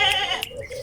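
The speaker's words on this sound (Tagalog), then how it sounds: "Hanip na kambing nila. Ingay." A goat gives a short bleat at close range, loud and wavering, with faint background noise from an outdoor setting in Bulacan, Philippines.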